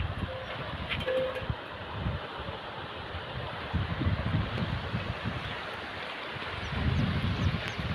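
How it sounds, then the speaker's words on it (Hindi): A fast-flowing river, a tributary of the Narmada, giving a loud, continuous broadband rush with rumbling surges that swell and ease, heard up close with no talking. "पानी तेज यहाँ बह रहा है।"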